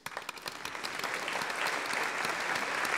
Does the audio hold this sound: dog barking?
no